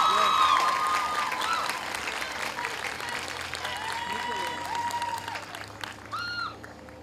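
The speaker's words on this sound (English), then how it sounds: "I believe we, the graduates, deserve a moment of applause." An audience at a 2023 high school graduation ceremony claps steadily, the applause fading slightly over several seconds, with a few whoops rising above it.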